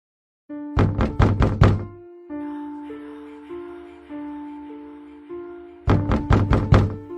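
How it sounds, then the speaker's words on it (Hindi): Two bursts of rapid, hard knocks on a door, each a quick cluster of about five loud thuds, separated by a sustained tonal drone, suited to a nighttime horror story scene. "हरीश के दरवाजे पर रात में अचानक दस्तक होने लगती है।"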